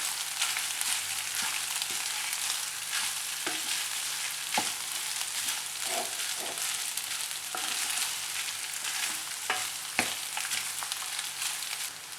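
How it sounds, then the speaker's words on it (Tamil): Rice with pepper is stirred and mixed in a hot pan, giving a continuous soft sizzle broken by scattered scrapes and clicks from the spoon against the pan. "இப்போது இது எல்லாத்தையும் நல்லா கலந்து கொடுத்துக்கணும்."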